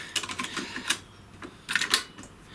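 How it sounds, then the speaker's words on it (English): A Sharp VZ-2500E boombox's tape deck pops open and a cassette is dropped in, a quick run of plastic clicks and clatters followed by a couple of sharper snaps, close by. "Eject that, and we drop a tape in."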